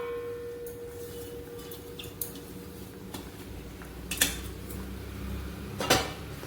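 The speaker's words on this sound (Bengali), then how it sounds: "এবার একটু ঢাকা দিয়ে রাখছি।" A lid set down on a cooking pan with paneer curry simmering, giving a few brief metallic clinks and taps over a low steady kitchen hum.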